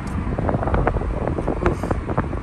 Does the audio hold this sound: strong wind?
yes